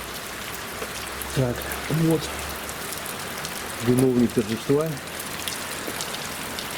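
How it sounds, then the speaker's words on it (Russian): Steady rain falls outside during a DIY CV joint replacement on a car, a constant broadband hiss running throughout while someone talks briefly over it. "на улице дождь"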